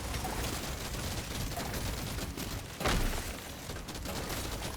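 Rapid gunfire from the GK2 rifle in Deep Rock Galactic Survivor, a dense continuous stream of shots with one heavier burst near the end, layered over busy game noise.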